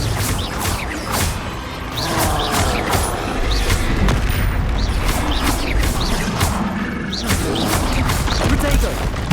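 Repeated Confringo fire-spell blasts in Hogwarts Legacy, a rapid series of loud booming explosions and whooshes over a dense, busy combat backdrop, with a voice in the mix.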